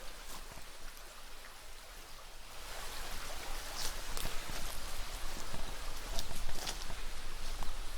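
A creek on rural acreage flows steadily as a broad, continuous wash of water noise that swells slightly louder after the first few seconds, with no voices present.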